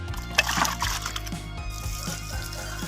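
Water is poured onto soil to loosen it before planting durian, giving a steady splashing, gurgling flow heard close up with no speech.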